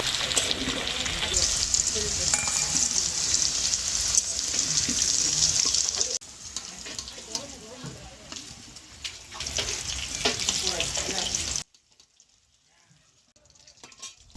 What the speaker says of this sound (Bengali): সবজিগুলো সব ভেজে নিয়েছি।